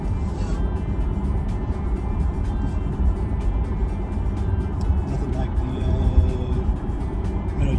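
Inside a Chevrolet C8 Corvette on the move, a steady low engine and road rumble fills the cabin.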